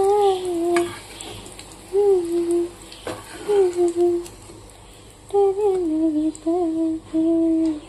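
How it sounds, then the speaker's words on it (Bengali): Bitter gourd frying in a pan in a home kitchen gives a soft sizzle beneath a person humming a melody in several bursts. "এবার হচ্ছে উচ্ছেটা নামাবো। উচ্ছে ভাজাটাও হয়ে গেছে।"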